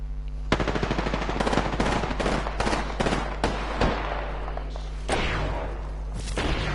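Rapid bursts of automatic gunfire in Apex Legends, loud and close, in repeated volleys with short pauses between them.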